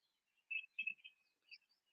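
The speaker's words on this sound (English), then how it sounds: "but you get to hear the birds." A few short, high bird chirps in quick bursts, fairly faint, against a quiet outdoor background with no talking.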